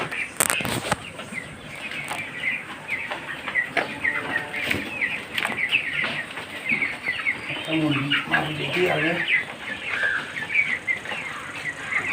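Broiler chickens on a farm cluck and chatter in a busy flock, with a few sharp wing flaps and knocks early on and steady calling throughout, fairly close.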